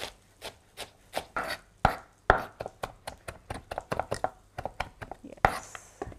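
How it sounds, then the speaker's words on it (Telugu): A knife chops fresh coriander on a board, a quick irregular run of close, sharp taps and thuds, with a voice speaking softly over part of it. "తర్వాత నేను దీంట్లో కొత్తిమీరని యాడ్ చేస్తున్నాను, ఫ్రెష్ కొత్తిమీర. ఇంకా దీన్ని కూడా చిన్న చిన్నగా చాప్ చేసుకుందాం."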